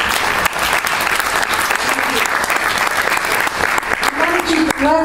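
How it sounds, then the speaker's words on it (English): An audience at an event honoring Bella Abzug gives a loud, dense round of applause, steady clapping throughout with a few voices calling out near the end. "we should just all give a round of applause for all the work that's been done for this"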